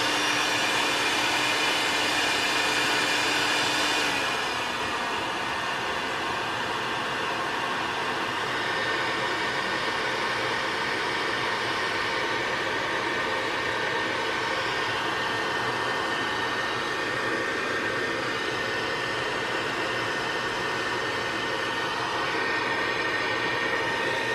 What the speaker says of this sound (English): we're just going to take the heat gun again and melt all that off